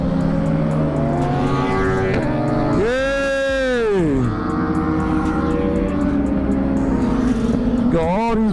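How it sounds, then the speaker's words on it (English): A group of motorcycles, including a GSXR 1000, rides by on a road, engines droning steadily with rising and falling pitch as bikes pass close, while people talk over the sound. "Got all these bikes out here."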